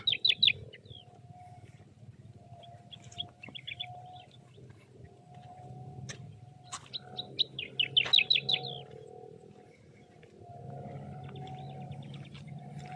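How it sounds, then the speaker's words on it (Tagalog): Small birds in a green rice paddy chirp in short bursts of quick repeated notes, some near and bright, others fainter, over a low rural background hum with no talking. "May ibon pa."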